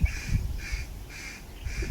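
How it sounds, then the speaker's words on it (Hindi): Small birds chirp and call outdoors where sparrows and squirrels feed on scattered bread, beside a plant nursery: a bright call repeats about four times in steady rhythm over a low outdoor rumble. "कितने पक्षी बोल रहे हैं चौं चौं चौं चौं चौं"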